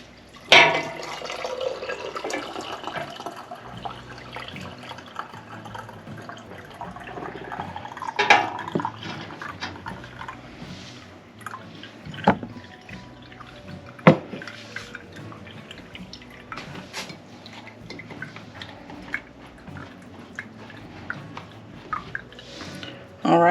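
Vegetable broth pours and splashes into a glass canning jar with scattered drips and clinks of glass, moderately close, under a low background hum.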